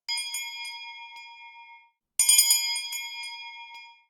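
Bright metallic ice cream truck bell chimes ring out in two bursts separated by a short pause, each strike leaving a shimmering, fading ring.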